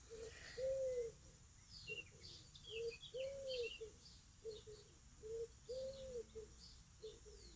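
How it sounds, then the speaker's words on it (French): A bird calls outdoors in short, repeated tonal phrases at an even pace, fairly clear against a quiet background with faint higher chirps and some low rumble. "Alors c'est un oiseau, je sais pas quoi, mais un oiseau."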